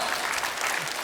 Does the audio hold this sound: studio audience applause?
yes